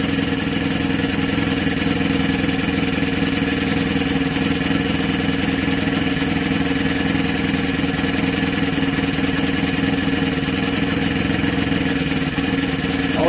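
Honda EM500 generator engine idling steadily with its automatic choke still on, a loud, even, continuous small-engine drone held without a break throughout.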